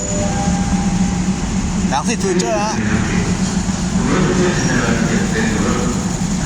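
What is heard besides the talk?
Thai ordinary train 210 arriving at Rangsit station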